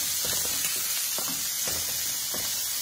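Garlic sizzles in a hot pan, a steady bright frying hiss throughout with faint stirring clicks and scrapes underneath, close and even in loudness, with no talking.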